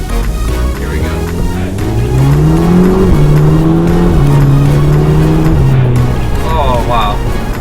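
A 2009 Audi TTS drives and accelerates hard, its engine note climbing through the revs, dropping at a gear change and rising again, loud and close from inside the car.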